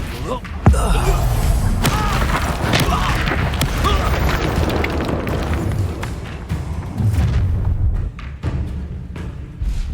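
A fiery Incendio spell bursts in Hogwarts Legacy on hard difficulty: a sharp thudding blast followed by roaring, crackling combat noise that swells and fades, loud and close, with game dialogue mixed in.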